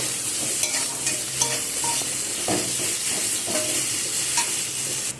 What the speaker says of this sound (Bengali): পেঁয়াজগুলোকে ভালো করে ভেজে নেব, লালচে লালচে করে একটু